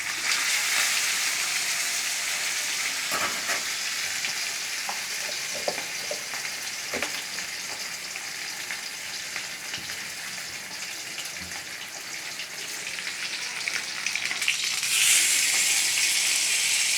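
Rohu fish pieces fry in hot oil in a pan with a continuous, dense sizzle that holds steady throughout, with occasional soft knocks and a brief brighter flare near the end.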